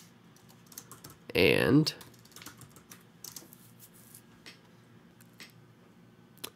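Keys tapped on a computer keyboard while text is entered during a computer lab exercise, light scattered clicks around a short spoken word.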